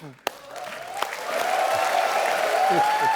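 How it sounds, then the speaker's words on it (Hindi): A studio audience at a comedy show breaks into applause that swells after a moment and then holds steady and loud, with speech mixed in. "सुनील पाजी के लिए जोरदार तालियां"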